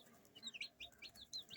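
Newly arrived white broiler chicks on their first day peep in short, high, rising chirps, several overlapping in quick succession, faint and close with no voices.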